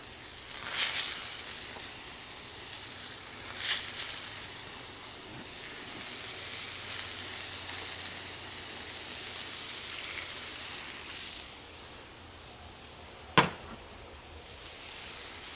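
Grouper fillets sizzle on a very hot Cuisinart 360XL griddle, a steady close hiss and crackle with a few sharper pops and one sudden clack near the end, no voices.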